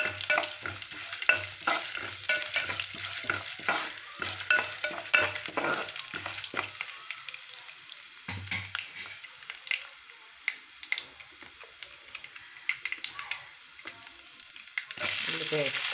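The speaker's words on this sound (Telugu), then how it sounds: "పప్పు చక్కగా వేగాలండి" Dal (lentils) frying in a pan, sizzling steadily at moderate level with scraping stirs and spoon clinks, the hiss easing off in the middle before a louder burst near the end; no voices.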